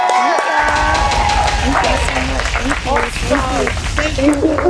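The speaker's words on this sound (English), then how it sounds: "I want all of you to just give a big round of applause to Miss Pretty Vic!" An excited crowd claps and cheers for the guest Pretty Vee at a classroom graduation event. The noisy, continuous applause and whoops run under a loud voice talking over them throughout.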